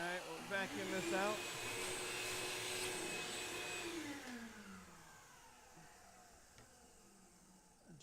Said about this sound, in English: we'll vacuum this out